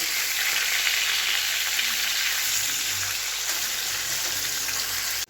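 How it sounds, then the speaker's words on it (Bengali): Fish fries in a pan for a fish curry, giving a steady, loud hiss of hot oil sizzling up close, continuous and even until it cuts off abruptly at the end, with no talking. "মাছ ভাজা হচ্ছে, মাছের ঝাল করব।"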